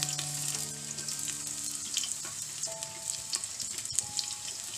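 Onions and green chillies sizzle steadily in hot oil for tomato rice, a close, continuous frying hiss with occasional stirring clinks and no talking.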